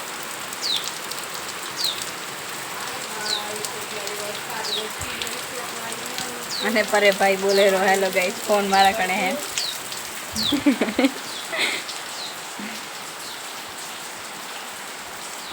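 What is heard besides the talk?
rain falling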